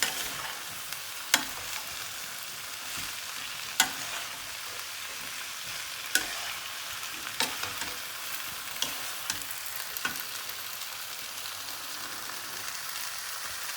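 Shredded cabbage frying in a pan for spring rolls hisses steadily while a spatula stirs and taps against the pan in scattered sharp knocks, close by and with no voices.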